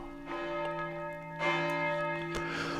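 Church bells of St. James's Church in Clapham, North Yorkshire, a ring of six including one cast in 1594, peal in a steady sequence of sustained, overlapping strokes that hum and linger, with no voices present.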